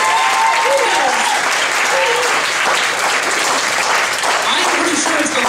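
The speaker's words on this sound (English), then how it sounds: "big round of applause for Keith and the Beatniks for 8 years" A comedy night crowd in Rhode Island claps loudly and steadily, mixed with hoots and cheering voices, with no letup across the whole stretch.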